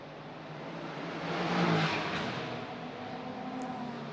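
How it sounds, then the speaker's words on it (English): Race car tyres working hard on track during a Macau Grand Prix GT Cup free practice session, a steady engine and tyre roar that swells and fades as a car passes, with no talk. "We really are hearing the tyres work, aren't we?"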